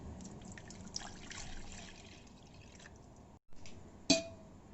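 About two and a half glasses of water are poured into a pot for boiling gooseberries (amla), with a soft continuous trickle and splash, a brief pause, then a sharp clink near the end.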